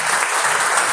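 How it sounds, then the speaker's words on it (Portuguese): Church congregation applauding at an evening worship service, a dense, steady wash of clapping hands filling the whole second with no gaps. "Aplausos para a sua vida."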